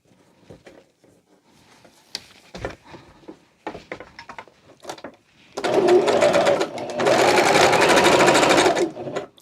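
Sewing machine stitching the gusset ends of a sectional sofa slipcover, with two long, loud, steady bursts of rapid needle clatter after a stretch of quieter handling and fabric rustle.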